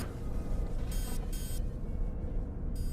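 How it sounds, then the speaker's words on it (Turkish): A high electronic alarm tone sounds in two short bursts, then another, over a constant low rumble. "Ve bir anda alarm."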